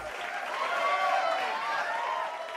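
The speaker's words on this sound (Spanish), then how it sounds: "así lo recibimos con este aplauso" A studio audience on a morning talk show applauds to welcome a guest, a dense, steady wash of clapping lasting a few seconds with no pause.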